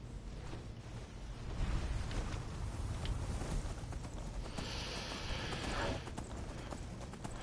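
Horse hooves clip-clopping steadily along in Skyrim, a rhythmic trot heard fairly close against a wash of ambient game sound, with a brief whoosh partway through.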